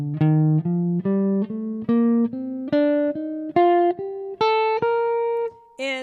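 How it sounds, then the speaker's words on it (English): Guitar notes picked one at a time, about ten in all, climbing gradually in pitch and shifting in loudness from note to note, played alone with no voices. "what you might want to do is alternate a quiet note followed by a loud note"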